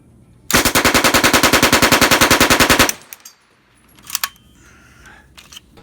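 A 9mm open-bolt WWII British Sten MKII submachine gun fires one sustained burst of about two and a half seconds of rapid, evenly spaced loud shots, followed by metallic clicks and handling sounds.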